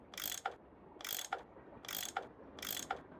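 A tool unscrewing bolts in the Nancy Drew game Last Train to Blue Moon Canyon, a mechanical ratcheting whir that repeats four times in an even rhythm, close and clear.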